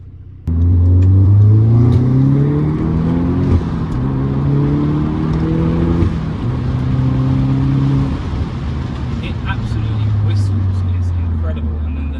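An Audi S3 8V engine with a Forge intake drones and rises in pitch through several gear changes, each shift dropping the tone before it climbs again, with loud road noise inside the car.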